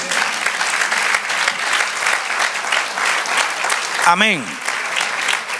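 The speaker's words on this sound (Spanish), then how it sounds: "Dale otro aplauso al Señor." A church congregation applauds steadily and loudly throughout, with dense clapping filling the space; a voice briefly calls out near the end over the applause.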